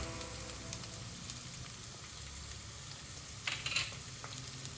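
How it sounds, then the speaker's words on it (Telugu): Onions fry in hot oil with salt and curry leaves for a bottle gourd curry, a steady soft sizzle throughout, with a brief brighter crackle near the end and no talking. "ఆనియన్ బాగా ఫ్రై అవ్వడానికి కొంచెం ఉప్పు వేసుకుందాం."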